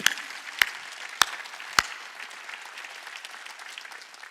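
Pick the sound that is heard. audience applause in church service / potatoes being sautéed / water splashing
audience applause in church service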